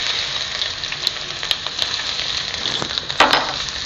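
Chopped garlic and ginger sizzle in hot oil in a pan for an Indian fusion idli Manchurian, a steady bright crackling hiss with a few sharper pops and a brief louder burst near the end, no talking.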